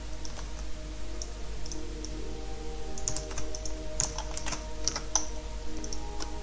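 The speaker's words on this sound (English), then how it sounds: "we can type in the second command, which is installing the Flatpak software plugin" Keys clatter on a computer keyboard as a command is typed into a Linux terminal, quick irregular bursts of close, fairly soft clicks over a steady low hum, with no talk.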